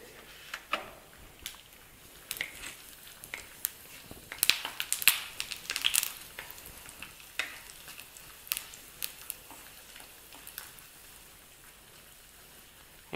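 Cashews sizzle in hot ghee for ghee pongal, a soft continuous frying hiss scattered with sharp crackles and pops that cluster midway and then thin out, close and fairly quiet.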